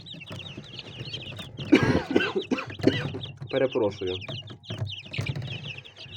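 Small chicks in a brooder cheep and cluck steadily up close, their high chirps continuing while someone talks over them.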